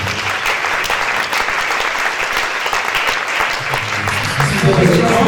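An audience at a religious testimony gathering claps and cheers for Jesus, loud sustained applause filling the room, with voices heard over the clapping.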